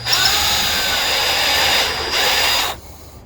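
A power drill bores into a ferro rod handle, a loud steady whir running for under three seconds before cutting off abruptly into quiet.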